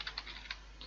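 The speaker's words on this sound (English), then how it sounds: "So what I'm going to do is to type network" Short bursts of typing on a computer keyboard, a handful of quick, light keystrokes close by, each click isolated, entering network commands on a router configuration screen.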